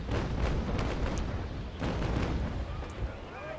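6-pounder long cannons fire in a naval battle game in a ragged volley of deep booms, with a second burst after a short pause and a faint rumbling tail.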